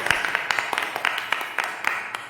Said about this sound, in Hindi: हम वचन में जाने से पहले परमेश्वर का जोरदार तालियों से स्वागत करते हैं